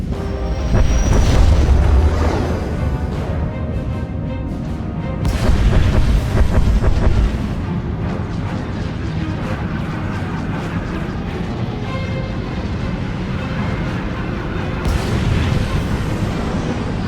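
Space battle bombardment in Star Wars: The Old Republic, with deep rolling booms and blasts rising and falling over a continuous rumbling roar, loud and dense throughout.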